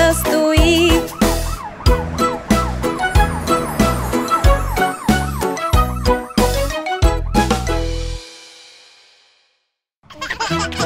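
An electronic cartoon fire truck siren wails in a rising and falling pattern, mixed with jingling beeps. It cuts out, goes quiet, then briefly starts again.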